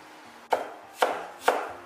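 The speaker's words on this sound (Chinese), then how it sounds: "然后用刀将土豆丝给它切碎，也可以用刀给它剁一剁" A kitchen knife strikes shredded potato on a cutting board three times at an even, unhurried pace, each chop crisp and close.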